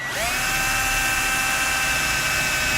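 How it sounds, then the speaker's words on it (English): A power drill with a small bit spins up with a rising whine and holds a loud, steady high-pitched drone, close by, drilling out plastic rivets on a 2014 Jeep Grand Cherokee. "We need to drill out these rivets, so we'll take a small drill bit"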